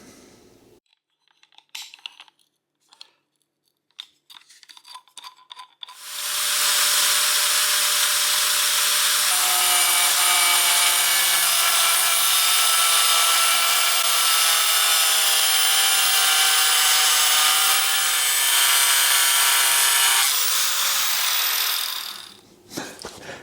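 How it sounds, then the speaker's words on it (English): An angle grinder and belt sander shape a steel knife blade, opening with scattered workshop clicks and knocks before a loud, sustained grinding whine takes over for about fifteen seconds and then cuts off. "I'm just going to use the belt sander on this part, but I'm going to have to angle grind off all the rest"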